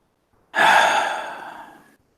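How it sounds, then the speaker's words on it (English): A single breath is drawn in and released from a person who breathes very shallowly, close by and otherwise quiet, ending in a soft, fading exhale. "You hear like very, very shallow breathing"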